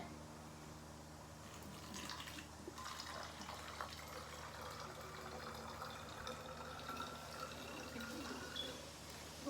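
Water poured from a container during a messy science demonstration, partly filling a vessel and spilling over, heard as a faint, steady splashing and trickling wash with a few brief clinks throughout.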